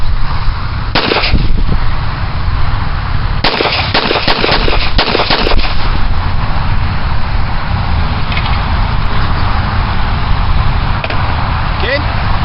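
A Wilson Combat stainless 1911 pistol with a checkered front strap fires a loud, close series of gunshots in two bursts: a single shot, then a rapid cluster of several more over steady outdoor background noise.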